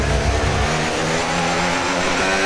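An F1 race car in the video game F1 26 drives a straight in overtake mode, its engine a loud sustained high whine with a brief low rumble at the start.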